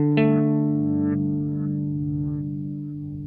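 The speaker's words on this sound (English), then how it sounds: "I'm going to increase the delay time here so you can really hear the pitch shifting well," Neuro Ambient Delay+Reverb pedal set to a pitch-shifted delay a perfect fifth down, a sustained tone followed by softer lower-pitched repeats that fade gradually into a washy tail, with no talking.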